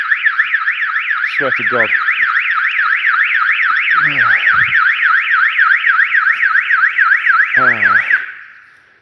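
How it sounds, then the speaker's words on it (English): A neighbour's alarm wails nearby with a fast, regular warbling siren that stays loud and continuous for about eight seconds before cutting off abruptly. Someone speaks briefly over it. "If that's their neighbour's alarm, and it drives me nuts every time I walk past it, it makes me jump."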